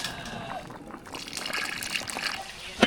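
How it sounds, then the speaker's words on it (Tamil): Tamarind water is poured into sambar with vegetables in a pot, a soft trickling and splashing of liquid under light background noise, ending in a brief sharp knock. "சாம்பாருக்கு காயெல்லாம் ஒரு முக்கால் வெக்காடு வந்துருச்சு அது கூட புளி தண்ணி சேர்த்துக்கலாம்"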